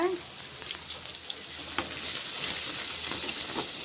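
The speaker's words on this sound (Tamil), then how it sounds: "வெங்காயம் எல்லாத்தையும் சேர்த்துட்டு லேசாக வதக்கணும்" Onions sautéing in a pan for onion rasam, a soft steady sizzle with a few light stirring clicks, close but fairly quiet.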